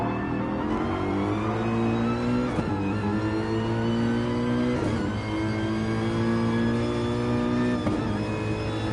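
Nissan GTR and Mercedes GT3 race cars in a sim racing game at Bathurst, engines droning loud and steady at high revs with harmonic whine and brief gear-shift dips, no voices.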